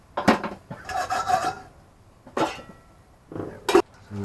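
Dry basmati rice poured into a pan of cooking mushrooms, coming as several short rasping, rattling pours separated by quiet gaps, close and clear.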